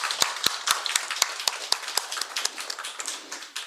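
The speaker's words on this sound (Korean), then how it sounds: "환영하겠습니다. 박수로." Scattered hand clapping from a church congregation welcoming a youth leader at a Sunday morning service, sharp distinct claps in an uneven rhythm that thin out toward the end, fairly quiet and close.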